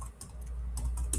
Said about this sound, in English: once you start typing